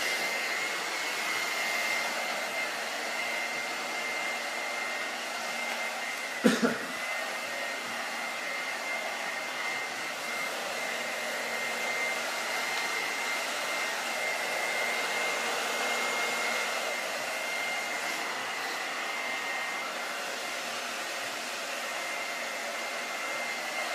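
A hair dryer blows steadily while a bob haircut is dried in a salon, a constant close whooshing hum with one brief knock partway through and no talking.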